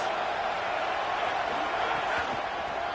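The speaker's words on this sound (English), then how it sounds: "This crowd trying to make life miserable for this offense." A stadium crowd in a college football video game roars as a steady, dense wall of noise throughout, loud and continuous with no clear breaks.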